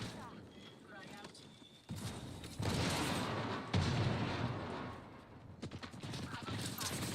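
Gunfire and explosions from the video game Apex Legends, dense bursts of shots and booms in a busy battle, with a player talking over the mechanical clatter.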